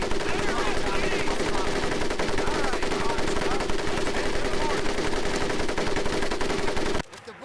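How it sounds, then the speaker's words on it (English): A rapid, continuous burst of machine gun fire from a Medal of Honor: Pacific Assault boot camp scene, loud and relentless for about seven seconds before stopping abruptly, with faint voices beneath. "Now here we have my personal favorite, the M1988 caliber machine gun."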